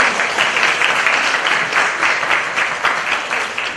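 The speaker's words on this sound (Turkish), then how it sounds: "ben bir alkışla konuşmacılara" A conference audience at a closing session applauds the speakers, a full, steady patter of many hands clapping close by for several seconds without talk.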